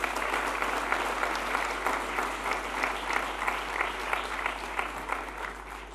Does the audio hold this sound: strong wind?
no